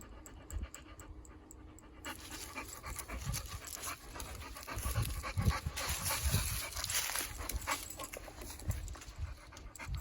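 A pit bull pants steadily and close by, a quick rhythmic breathing that grows heavier midway, with faint clicks of movement and no talk.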